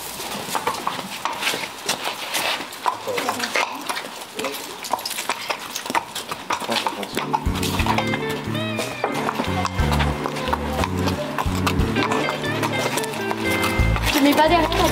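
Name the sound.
horse being led out of its stall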